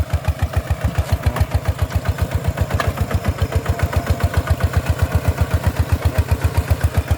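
A tractor engine runs loud and close with a fast, even chugging pulse that holds steady throughout, with no voices.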